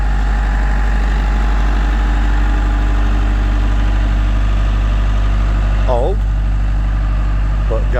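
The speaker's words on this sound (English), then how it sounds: "BITELLI BB642 gas screed." A Bitelli BB642 gas-fired paving screed's engine runs close and loud in cold weather, a steady droning hum with heavy low vibration and no break, a voice speaking briefly over it.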